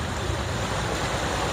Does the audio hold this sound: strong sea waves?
yes